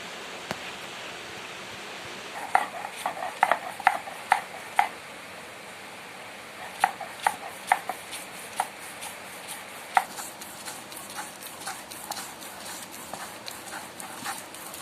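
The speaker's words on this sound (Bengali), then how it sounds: "এই যে মটর ডাল আগের দিন ভিজিয়ে রেখেছিলাম, এটি বেটে নেব এখন" Soaked split peas (matar dal) ground into a paste, giving a steady, fairly quiet scraping wash broken by irregular clusters of sharp knocks and taps, with no voices.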